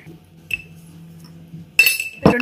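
A spoon stirs sugar into melted butter in a mug, giving a few sharp clinks against the side with quiet gaps between them and a louder scrape and clatter at the end.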